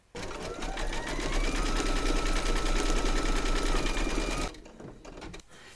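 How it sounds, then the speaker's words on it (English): An embroidery machine stitches black thread lettering on a music-themed bunting panel, a loud, continuous rapid whirring that runs steadily for over four seconds, then cuts off, leaving a few faint clicks. "Load your thread colour for the text into your machine and then stitch round number eight"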